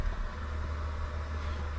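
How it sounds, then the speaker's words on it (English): A steady, low avionics cooling fan hum in a Cessna 172SP drones on without change, with a constant airy whir and engine-like rumble beneath. "just the sound of the fan"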